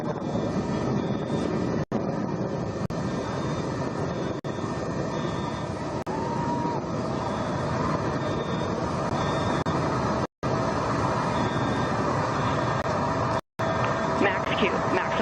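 A simulated rocket engine roars at full throttle on the Mission SPACE ride, a steady, loud, dense rumble that runs throughout with a few abrupt cuts, while a voice speaks over it.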